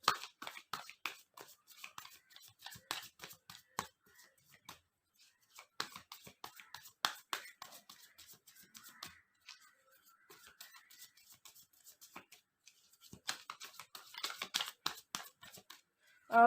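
A deck of tarot cards being shuffled by hand, heard as close, soft bursts of rapid papery ticks and riffles that come in several runs with short quiet gaps.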